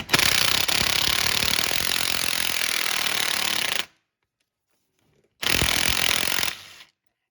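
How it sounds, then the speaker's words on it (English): A power tool fitted with an E8 female Torx socket whirs loudly while backing engine studs out of a 2007-2021 Toyota Tundra. It makes one long burst of about four seconds and then a shorter one after a pause. "You'll have to use an E8 female torque socket to get the studs out."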